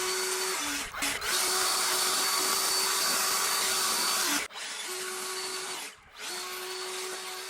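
A leaf blower roars steadily while blowing snow off a Ford Raptor. The loud broadband rush runs near-continuously, with brief dips as the throttle drops around the first second, halfway through and near the end.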